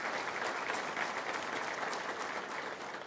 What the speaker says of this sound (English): Give him a round of applause for all the years he served us